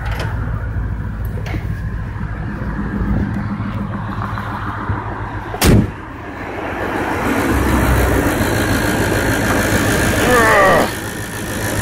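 The engine of a 1995 Chevy G20 cargo van runs at a steady idle, heard up close with the hood open; a loud sharp click cuts through midway and the engine note swells slightly later on.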